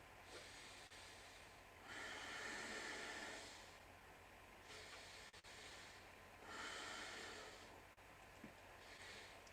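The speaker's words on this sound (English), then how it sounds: "Ujjayi breathing is heavy breathing, so it will make some sound too" Slow, heavy Ujjayi breaths drawn through the throat during a yoga session, soft rushing inhales and exhales repeating in long even cycles, close and quiet.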